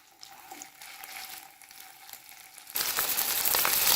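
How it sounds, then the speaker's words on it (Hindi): Fish laid in a pan on low heat frying with a gentle continuous sizzle, swelling into a louder, brighter hiss near the end, close by with no voices. "अब मैंने लो आंच पे मैंने फ़िश को रख दिया है।"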